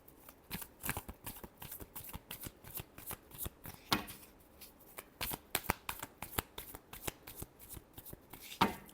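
A deck of tarot cards shuffled by hand, a long run of rapid, sharp papery flicks and slaps in an uneven stream, close but soft with no talking.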